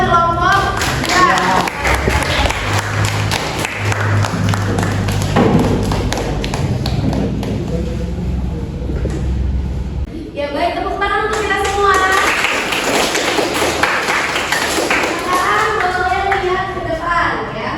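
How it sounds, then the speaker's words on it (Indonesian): A group of students in a classroom applauds with loud, rapid clapping and thumping for several seconds, then the clapping fades as a teacher's voice and children's chatter take over, followed by a second, lighter round of claps under talk. "tepuk tangan dulu buat kelompok"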